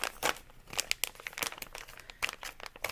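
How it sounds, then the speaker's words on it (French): A packet of Color Street nail polish strips is torn open with sharp, close crinkling and ripping of the wrapper in quick bursts over a few seconds. "on commence par les 9 paquets de bandelettes. On va ouvrir ça."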